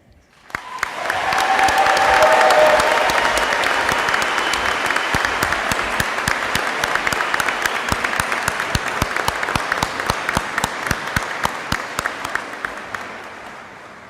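Sustained applause from a large audience at a University of Maine at Machias commencement ceremony, loud and dense with crisp individual claps, swelling quickly and tapering slightly over fourteen seconds.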